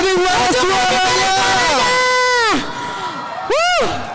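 A crowd at the Bank Nagari Frontliner Championship cheering and shouting for a team, loud and close, with an amplified announcer's voice calling over the noise before it dips and rises again.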